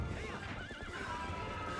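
A horse in a video game lets out a loud, wavering whinny over busy game background sound, with faint hoof clip-clop around it.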